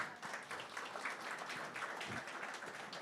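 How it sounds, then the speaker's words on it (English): Applause from an audience at a workshop talk on self-directed learning, a steady dense wash of clapping that fills the whole stretch at moderate level, with no voices on top. "Everyone, a hand of applause for Veronica."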